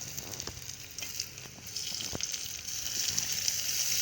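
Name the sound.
chopped tomatoes added to onions frying in a pan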